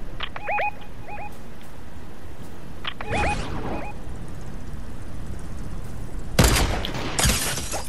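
Gunfire in an online shooter video game, including heavy sniper shots: several short chirpy bursts early on, then a loud, sharp broadband blast with trailing crackle near the end, no talking over it.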